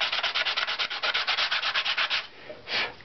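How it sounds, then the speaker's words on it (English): Rapid rhythmic scraping of fine 150-grit sandpaper rubbed back and forth, about twenty quick strokes, then a brief pause and one more stroke, close up. "this is just 150 Imperial Eastman sandpaper"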